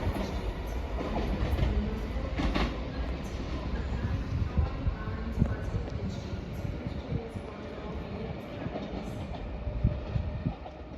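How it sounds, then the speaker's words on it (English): A ScotRail 334 unit rolls into Haymarket station on the service from Bathgate to Edinburgh Waverley. Deep rumbling carries scattered wheel clatter and knocks, close and steady throughout. "Arriving now is the 15:47 ScotRail service from Bathgate to Edinburgh Waverley"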